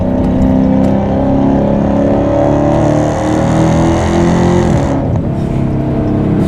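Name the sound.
widebody Hellcat Redeye car engine revving during a hard pull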